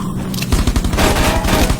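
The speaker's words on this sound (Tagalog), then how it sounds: "Hindi tumatama yung baril ko." Video game gunfire rattles as a loud, rapid burst of repeated shots that keeps a steady automatic rhythm throughout, with no voices over it.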